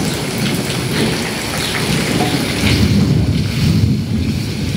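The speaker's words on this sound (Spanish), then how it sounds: "Está tronando para acá." Heavy rain pours steadily with low rolling thunder rumbling underneath during a thunderstorm in Puerto Rico, a dense, continuous wash of sound that swells slightly louder toward the end, with no voices.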